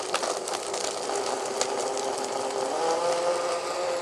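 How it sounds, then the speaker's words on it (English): Kitchen blender chopping ice with White Claw slushy mix, a steady loud whirring grind with rattling ice, running continuously without talk. "All right, pop it into your blender."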